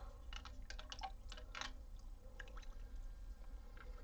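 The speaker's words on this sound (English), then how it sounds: "So give this another stir." An indigo dye vat being stirred, giving a series of short wet clicks and sloshing knocks scattered over a steady low background hum, close and fairly quiet, with no talking.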